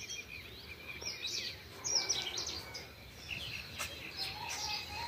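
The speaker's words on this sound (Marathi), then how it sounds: "चिमण्यांचा पक्ष्यांचा चिवचिवाट सुरू आहे" Sparrows and other birds chirp outside in the early morning, bright scattered calls and short twittering bursts over a low ambient hiss, moderately distant and without speech.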